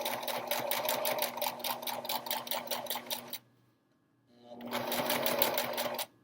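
Sewing machine stitching a curved fabric edge, fast steady needle clatter for about three seconds, then a short pause and another burst, heard up close.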